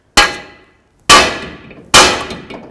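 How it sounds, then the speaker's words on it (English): A hammer strikes the front lower ball joint and tie rod area on a 2006-10 Dodge Charger's suspension: three loud, ringing metallic clangs about a second apart, each fading quickly, with no talk. "We're going to use your hammer and bonk right along this, and hopefully it should want to drop free."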